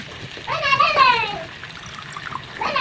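Water is poured into a pan of kangkong adobo being cooked, a short splashing trickle, with a voice speaking in the background.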